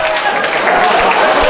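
A crowd cheers and applauds steadily at a women's wrestling match between Stacy Thibeault and Eve, a dense roar under a commentator's fast play-by-play.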